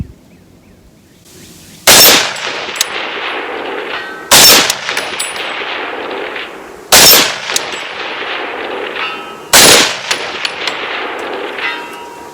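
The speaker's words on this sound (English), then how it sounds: "Let's see how fast we can get 4 shots here." Four loud, sharp rifle shots from an AR10 chambered in .30-06, fired outdoors in quick succession roughly two and a half seconds apart, each with a ringing metallic tail and echo.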